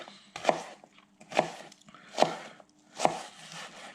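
A knife slicing an onion on a cutting board, four evenly spaced crisp chops with a short crunch at each stroke, close and clear with no speech.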